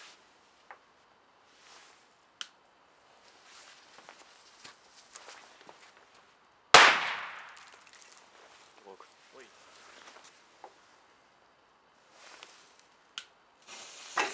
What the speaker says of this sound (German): Weiter geht's mit den Pyro-Crackern.